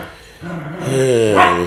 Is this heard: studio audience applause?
no